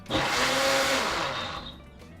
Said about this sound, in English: You've put some water in the blender.